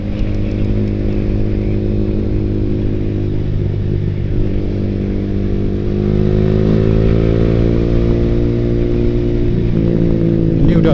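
A Yamaha R15 V3 fitted with a Ronin Hanzo exhaust in racing mode idles with a dense, throbbing rumble close by, then revs slightly and rises in pitch near the end, steady and loud throughout.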